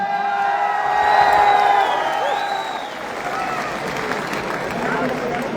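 Applause and cheering break out in a large audience at an anniversary event, starting under a sustained tone and growing into a dense, even wash of clapping with crowd noise.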